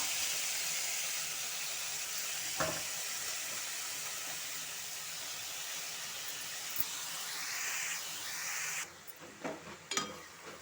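Gongura leaves sizzling in hot oil in a cooking pan, a steady hissing fry with a few sharp pops and stirring clatters near the end.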